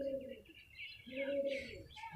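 A pigeon coos in two low, rounded phrases close by, with faint higher bird chirps in the background.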